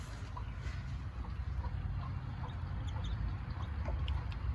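A hen with her baby chicks settling into a new coop, giving faint, scattered peeps and soft clucks over a steady low background hum.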